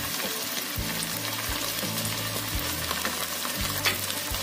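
A paste of garlic, ginger and cumin fries in oil for spinach and masoor dal, sizzling steadily up close while a spatula scrapes and stirs in regular strokes.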